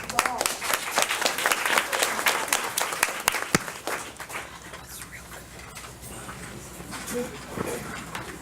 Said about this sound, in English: And if we could give them a round of applause.